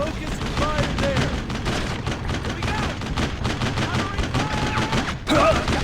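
Intense combat gunfire in the Brothers in Arms World War II game, a steady barrage of overlapping automatic bursts and single cracks ending in a heavy blast, with voices calling out beneath.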